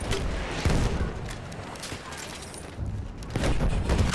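Battlefield 1 gunfire in multiplayer, with bursts of shots and booms at moderate level, gaps between volleys and heavier firing near the end, no clear talk.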